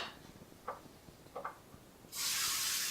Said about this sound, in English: we're gonna spray some Pam over the sink